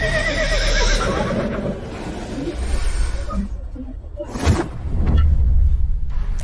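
A spirited horse neighs loudly in a stable-yard confrontation, its whinny ringing out at the start, with shuffling and stamping, another burst midway, and background commotion throughout.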